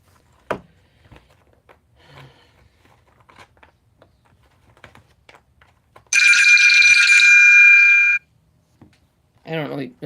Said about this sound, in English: That was my alarm going off.